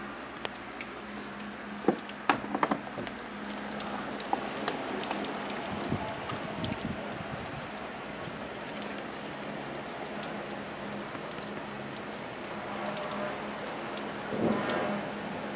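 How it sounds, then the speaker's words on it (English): Heavy rain pours steadily during a thunderstorm downtown, a dense continuous hiss with a few sharper drip and splash impacts and some low rumbles, no talking. "It's raining so hard."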